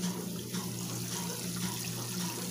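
Water runs continuously through a homemade filter on a goldfish pond, a steady close splashing trickle with no breaks.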